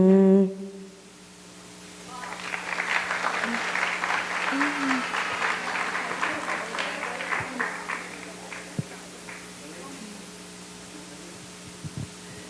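Audience applause after a live song at a musical concert, a burst of clapping rising after a final held note, swelling then thinning out over several seconds, with low hum beneath.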